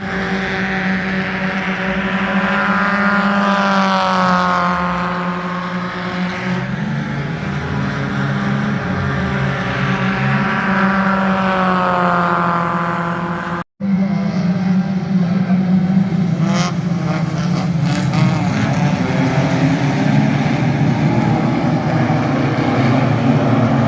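Race cars roar away at the start of a long race at the Nogaro circuit in France, a dense, loud engine din with rising and falling revs across the pack, a brief drop in sound, then engines surging again.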